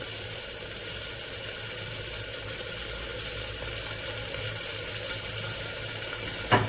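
Water runs from a household tap during washing, a soft, steady hiss and splash with no speech, ending in a brief louder clatter.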